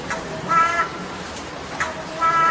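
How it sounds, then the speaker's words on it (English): A crow caws twice, harsh and fairly close, with a brief pause between the calls and a faint background hiss. "And what about this crow?"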